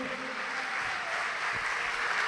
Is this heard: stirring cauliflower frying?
no